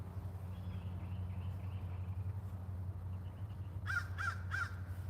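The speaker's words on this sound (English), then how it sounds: "You hear that crow?" A crow caws three times in quick succession near the end, fairly close, over a steady low rumble of outdoor background noise in a park.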